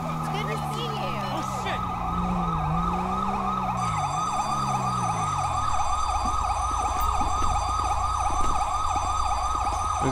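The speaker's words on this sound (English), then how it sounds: "Definitely gotta get a better siren than this" A police siren in GTA V LSPDFR wails steadily and loudly for the whole stretch. Later it switches to a fast yelp, with a low horn-like tone early on and people talking underneath.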